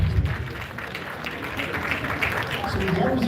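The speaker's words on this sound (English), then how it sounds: "I think we want to clap." An audience at a real estate regulation event applauds, a steady wash of clapping from many hands that holds throughout, with a voice talking over it.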